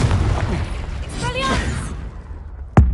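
A Confringo spell cast in Hogwarts Legacy, heard as a sharp, loud burst near the end, following a stretch of busy game noise and whooshing effects.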